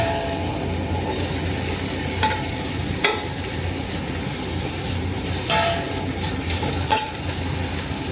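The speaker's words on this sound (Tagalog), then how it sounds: "unahin na natin yung luya. Para kumapit yung kanyang lasa sa mantika or sa olive oil." Ginger sizzles in hot oil or olive oil for chicken sinigang, a continuous crackling fry broken by a few sharp scrapes and clinks of a utensil stirring in the pan.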